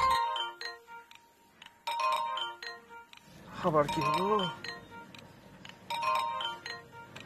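A phone rings in a Bengali TV drama scene, its repeating chiming ringtone pattern loud and clear, pausing briefly while a voice speaks before the ringing resumes.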